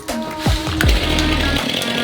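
A STIHL MS500i fuel-injected chainsaw is yanked on its pull cord twice with quick rasping strokes, then catches and settles into a steady, loud running drone close by.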